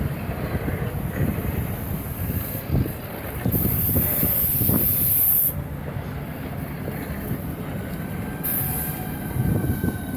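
Train on the line from Rochester to Chatham, an eight-coach service: steady rolling rumble of wheels on track with bursts of high-pitched squeal and hiss, loud and close throughout with no one talking.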